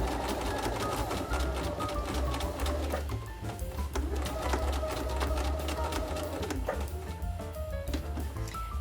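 A Bernina 380 sewing machine stitches steadily throughout, a continuous close mechanical whir with a rapid needle rhythm and brief slowdowns, no talking.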